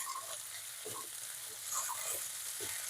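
Potatoes, eggplant and pumpkin fry in oil with ginger and garlic, a soft continuous sizzle with faint stirring scrapes, close but quiet.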